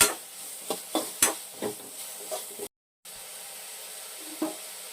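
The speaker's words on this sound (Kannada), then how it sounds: "ಅದನ್ನು ನಾನಿಲ್ಲಿ ಆ್ಯಡ್ ಮಾಡಿಕೊಂಡು ಫ್ರೈ ಮಾಡ್ಕೊತಾ ಇದ್ದೀನಿ" Ground spice paste frying in a pan for hotel-style paneer tikka masala, with steady soft sizzle and a few sharp spoon-against-pan clicks from stirring early on, then a brief dropout before quieter sizzling resumes.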